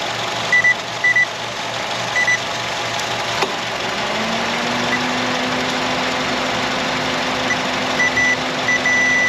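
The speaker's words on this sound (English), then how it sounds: "there's our tone to ground" A multimeter's continuity tone sounds while wiring is probed to ground on a 2.4-liter Honda CR-V. After a few intermittent short beeps, a steady low electronic tone holds continuously over several seconds against a constant background hum.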